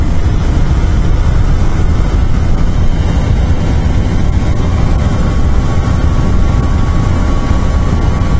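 A 2017 KTM Duke 125 ABS motorcycle rides at high speed in sixth gear, heard as a constant roar of wind buffeting the microphone over a steady engine hum, with no pauses.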